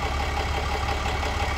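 A 2006 Ford LCF ramp truck engine idling with its exhaust, a steady low rumble with a regular pulsing throb, close and fairly loud, no voices.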